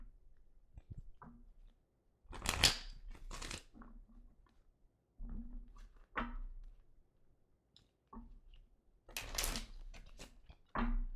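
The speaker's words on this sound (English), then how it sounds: "Now I can actually shuffle these cards." A deck of cards is shuffled in short, close bursts of riffling and rustling, with quiet gaps between them.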